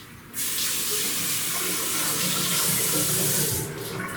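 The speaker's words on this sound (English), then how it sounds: "I'm going to turn this water on just to clear out the line." Tap water runs hard and steady to flush a toilet fill valve supply line, a loud hissing gush that starts abruptly and continues nearly throughout.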